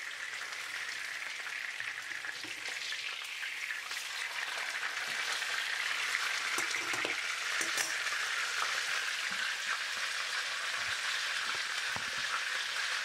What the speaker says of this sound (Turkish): Kızgın yağ atalım ve orta ateşte yaklaşık 5-6 dakika bir tarafını